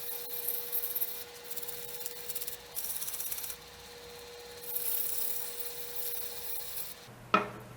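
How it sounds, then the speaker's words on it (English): Hand sanding inside a turned walnut bowl gives a steady, dry rasping scrape in short bursts, with a faint hum underneath and a sharp knock near the end. "I still have to sand up in here"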